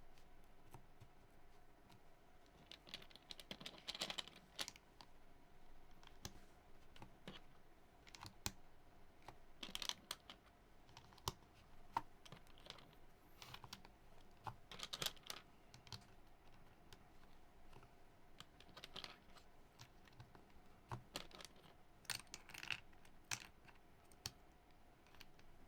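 Typing on a keyboard with black keycaps on a silver board: quiet, irregular key clicks in scattered bursts, with occasional louder clacks against a faint background hum.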